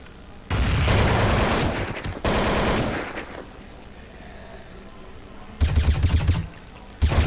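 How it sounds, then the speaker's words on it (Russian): Rapid automatic gunfire from a competitive shooter game match, loud and close, rattling in long sustained bursts with short pauses and a final burst near the end, no talking over it. "стрельба"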